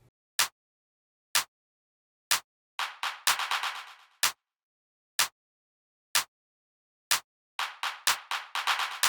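A clap sample in FL Studio, processed with Fruity Delay 3, sharp isolated claps hitting on a steady beat, with some passages where trailing echoes repeat and fade after each clap.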